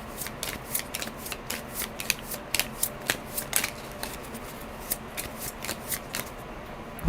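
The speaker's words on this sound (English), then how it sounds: "now I do have to shuffle my deck again" A deck of playing cards being shuffled during a solo tabletop card game session, a steady run of crisp riffling snaps and flutters, close and fairly quiet, with no talking.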